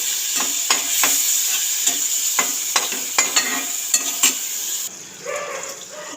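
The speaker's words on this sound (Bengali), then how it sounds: "চিংড়ি মাছগুলোকে লাল লাল করে ভেজে নেব।" Shrimp fry in hot oil in a wok with a steady, close sizzle, punctuated by sharp clicks and scrapes of a utensil stirring the pieces, before the hiss thins near the end.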